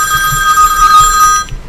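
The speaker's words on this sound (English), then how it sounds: "Sorry about the phone ringing." A telephone rings during a World of Warcraft gameplay session, a steady electronic bell tone holding for over a second before cutting off, with soft low background rumble beneath.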